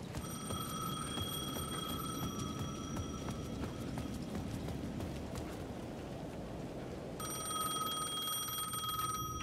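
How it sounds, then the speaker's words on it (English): A payphone in the Alan Wake 2 video game rings in bursts of electric bell tone that stop for several seconds and then resume, with footsteps tapping steadily beneath in a quiet setting. "The payphone at the edge of the plaza was ringing again."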